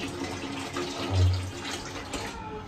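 Water runs steadily from a tap, a constant close splashing hiss that fades near the end.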